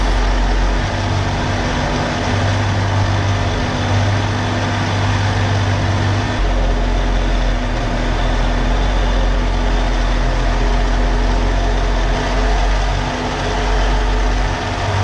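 A supercharged small-block Chevy V8 with a Weiand/B&M 144 blower and carburetor, fitted in a Jaguar XJS, idles steadily with a low, rumbling hum and a faint whine, no voices over it.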